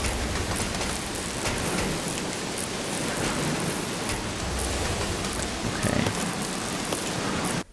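Steady, dense rain pours throughout the scene of a Resident Evil game, a loud continuous hiss of drops falling on surfaces with no talk over it.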